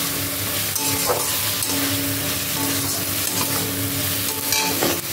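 Spiced vegetarian vegetable curry being stirred in a pan, a steady close sizzle and frying hiss with scraping stir strokes at a couple of points, no talking.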